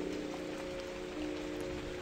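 Soft, steady rain falling indoors in the horror game The Bathhouse, a faint continuous patter over a low hum, with no voices.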